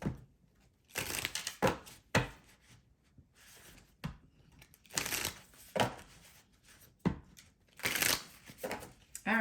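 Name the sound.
shuffling tarot cards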